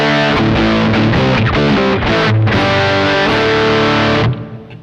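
Electric guitar played through a Behringer OD300 overdrive pedal set to distortion, loud saturated chords ringing, then cut off and decaying at the end.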